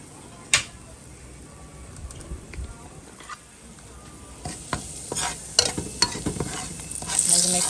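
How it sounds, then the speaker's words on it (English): Curry powder dropped into hot oil in a pot sets off a soft, steady sizzle, with light stirring clicks and scrapes that grow louder near the end. "I have some oil in this pot right here. It's getting hot. I'm going to add the curry."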